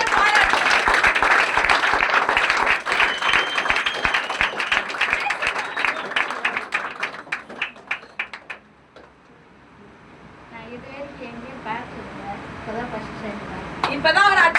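Sustained, dense applause from a crowd, many hands clapping steadily for several seconds before thinning out into a few scattered claps, after which a voice begins talking.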